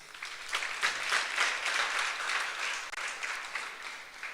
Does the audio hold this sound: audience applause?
yes